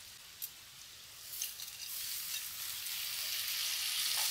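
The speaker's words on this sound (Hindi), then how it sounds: "अब हम इसमें कटे हुए आलू को डाल देंगे" Chopped potatoes are added to beans and fry in a pan, producing a soft hiss of sizzling that swells after a brief clatter and then holds steady, fairly quiet and close.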